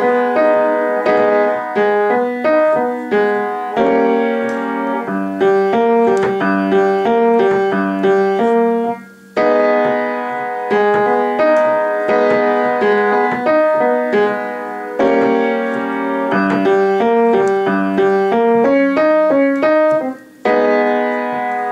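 Solo piano plays the left-hand part of a hip-hop song arrangement, a steady repeating pattern of low and mid-register notes and chords that cycles for about twenty seconds, close and clear with no talking.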